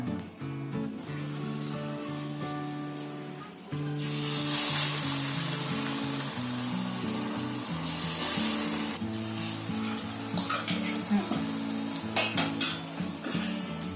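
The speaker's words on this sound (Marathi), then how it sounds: "चकली पाडून झाले की लगेच तेलात टाकायची" Chakli made from bhajani flour sizzles in hot oil with a bright, crackling hiss that swells loudly in two bursts as pieces go in, over clinks of metal utensils and pans in a home kitchen.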